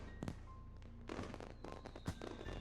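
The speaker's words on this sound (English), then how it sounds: "Minutes of silence pass, with only the blast of the fireworks to be heard." Fireworks blasting at a summer festival in the visual novel Katawa Shoujo, a run of faint, distant booms and crackling thuds spaced irregularly against quiet background music.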